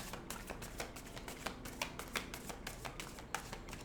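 Close, crisp riffling of a tarot card deck being shuffled, with quick bursts of papery flicks repeating in an uneven rhythm and no voices.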